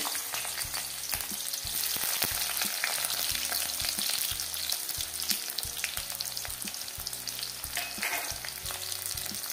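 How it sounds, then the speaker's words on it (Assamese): Two finely chopped onions fry in hot oil, a dense, continuous sizzle close up, punctuated throughout by rhythmic scraping and clacking of a spatula stirring in the pan. "এতিয়া মই পিঁয়াজটো অলপ সময় ভাজি ল'ব লাগিব"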